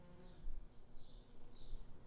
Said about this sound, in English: Social wasps, for instance, rebuild nests every spring.